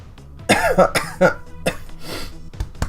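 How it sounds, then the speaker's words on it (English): Several harsh, dry coughs in quick succession, close to the ear, followed by a couple of short throat-clearing bursts. "Whatever this annoying, irritating cough that I've had for like a week is."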